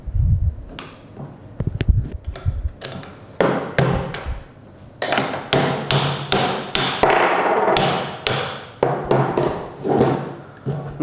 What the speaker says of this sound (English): little bit hammering on both sides.